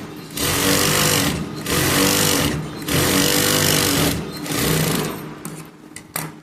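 A sewing machine stitches an Aari work blouse in long, loud, even runs of rapid needle clatter, pausing briefly between seams, close up and without talk.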